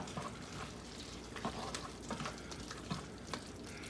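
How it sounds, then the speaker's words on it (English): Sauce for steak fajitas simmering in a pan, a soft continuous bubbling hiss with faint pops and the occasional light stir or clink, steady and fairly quiet throughout. "we'll let this simmer for a little bit"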